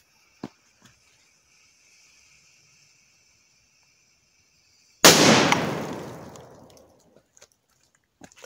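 A Titanium Bombers firework goes off with a sudden loud bang, and its crackling, sizzling burst fades over about two seconds. A few faint pops come before it and a couple of small clicks follow.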